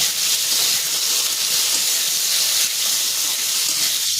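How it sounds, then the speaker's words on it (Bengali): Bitter gourd frying in oil in a pan, giving a steady, bright sizzling hiss that stays even and close for the whole stretch, with no talking over it. "করলাটা এটাকে একটু ভালো করে ভেজে নেব।"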